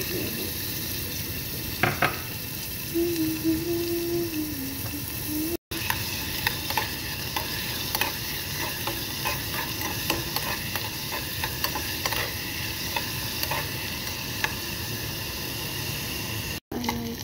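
Onion and chili frying in olive oil for a shrimp kabsa, with a continuous loud close sizzle and faint stirring scrapes. A brief voice is heard early on, along with a few clicks.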